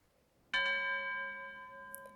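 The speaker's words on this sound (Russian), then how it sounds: "Мне нравится запоздалый колокол" A single bell strike rings out in a scene of the anime Sousou no Frieren, with a bright metallic onset and a long sustained tonal ring that slowly fades, heard clearly with no talking.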